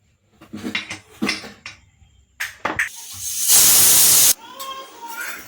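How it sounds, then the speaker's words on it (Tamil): A pressure cooker holding kidney beans lets out a sudden loud burst of hissing steam lasting about a second, with kitchen clatter and voices before and after. "மூடி போட்டு 3 விசில் வச்சுக்கலாம்"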